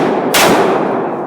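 A single loud, close gunshot from a Ruger LCR .357 Magnum snub-nose revolver firing defensive ammunition, a sharp blast followed by a brief ringing decay.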